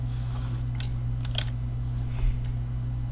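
Keys clatter on a computer keyboard in a few light separate taps while searching in KiCad, faint and close over a steady electrical hum, with no talking.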